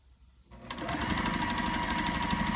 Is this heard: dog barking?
no